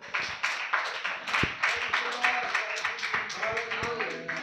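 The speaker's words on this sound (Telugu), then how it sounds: "కొంచెం చప్పట్లు కొడదాం ఒకసారి." A church congregation claps their hands together, a steady run of fairly quick claps that continues throughout, moderately close, with voices and room noise mixed in.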